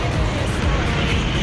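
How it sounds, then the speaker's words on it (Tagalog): A jeepney rolls past on a road, a steady broadband engine and tyre rumble that stays close and fairly loud for the whole moment, with some wind or surf-like noise mixed in. "Eh, dumadaan palang jeep."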